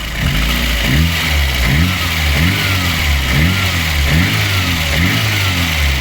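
A VAZ 2109 car engine idles steadily up close, its low rhythmic chugging pulsing evenly throughout with no talking.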